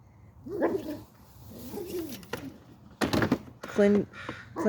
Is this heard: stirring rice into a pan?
no